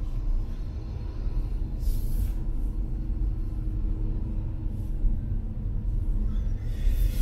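Interior of a car, the wife's vehicle, pulling away: a steady low engine and road rumble holds throughout, close and continuous, with faint higher rustles now and then.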